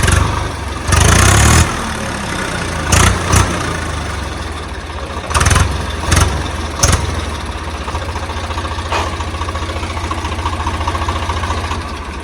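A cold 2012 Swaraj tractor with a Kirloskar diesel engine idles with a steady low chug throughout, broken by a few short louder bursts and knocks near the start.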